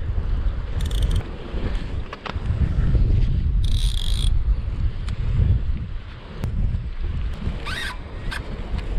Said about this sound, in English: it's so windy, I didn't really see the bite